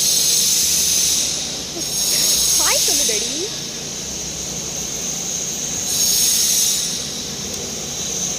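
Train pulling into a station with a long hiss and squealing wheels, a steady rumbling roll beneath and brief high screeches in the middle.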